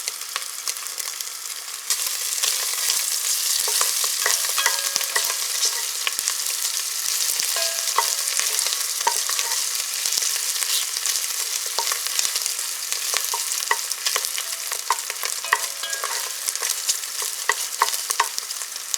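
Sausage fries in a pan as a tomato rice base is started, a loud, close, continuous sizzle that swells after a quieter first two seconds, with crisp pops and stirring scrapes scattered throughout.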